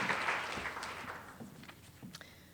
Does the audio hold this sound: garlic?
no